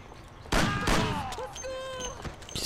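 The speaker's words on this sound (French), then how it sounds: "Oh mon dieu, des coups de feu." A rapid burst of gunfire in the video game Mafia cracks out in a dense volley, followed by scattered shots and ringing tones, loud and close.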